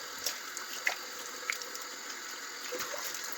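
Water splashing and trickling at a basin as face makeup is washed off, a steady close wash of running water with a few small splashes and no talk.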